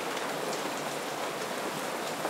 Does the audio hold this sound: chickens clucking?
no